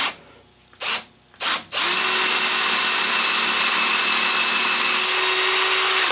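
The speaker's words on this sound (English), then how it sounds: "I'm just going to use the portable drill so I don't have to switch vices here." A portable electric drill bores a hole for a screw in a boy's model steam engine build, a steady loud whine running continuously after two or three brief trigger bursts.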